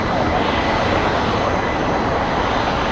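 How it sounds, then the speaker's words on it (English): An Avianca Cargo jet takes off at Los Angeles, its engines producing a loud, continuous broadband roar that holds steady throughout, with no talk over it. "Avianca Cargo there, taking off."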